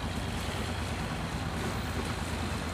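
Fishing boats return to La Gi harbour at sea, with a constant low engine drone mixed with wind buffeting and the wash of waves, heard from aboard.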